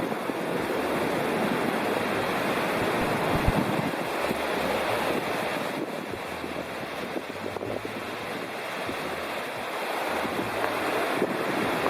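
A loud river in the Smoky Mountains backcountry near Cabin Flats rushes in a steady, dense roar that fills the whole clip with no voices.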